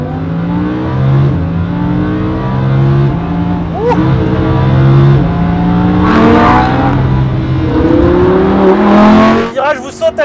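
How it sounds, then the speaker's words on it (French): Lamborghini Huracán LP 610 roaring through its exhaust in Corsa mode, a loud, close engine note rising and falling through gears as it accelerates, with sharp crackles near the end and a voice talking over it. "quand on enclenche ici le mode sport ou le mode Corsa, course, qui libère vraiment les échappements, on en prend plein les oreilles"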